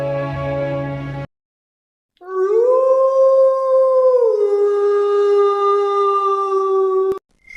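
Jackals howling at night, a long sustained wavering howl rising then settling, loud and clear against silence after a brief different tone at the start.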